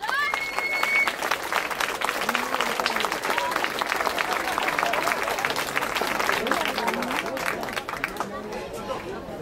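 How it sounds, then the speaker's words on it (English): Audience applause at a salsa and kizomba festival show, a continuous loud wash of clapping from a large crowd with cheers and chatter mixed in, easing off at the end. "Je vous demande d'applaudir Nino et Janine, s'il vous plaît."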